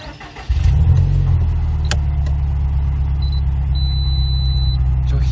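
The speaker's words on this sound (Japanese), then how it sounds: "ちょっとエンジンかけますね。" A Subaru WRX STI (VAB) cranks and fires up after a short quiet lead-in, then settles into a loud, steady, deep idle close by with a slight rev, and a thin electronic whine joins it near the end.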